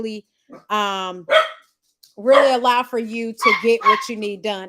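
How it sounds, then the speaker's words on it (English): Dogs barking in the background while someone speaks, the yips and barks mixed in with his talking. "I apologize for the dogs."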